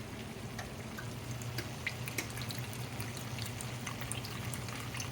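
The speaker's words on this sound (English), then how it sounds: "then we're going to put the 2/3 of wine in here" Sweet wine is poured into a pot of blue crabs with lime and lemon, a faint, steady trickle with light drips at a quiet level.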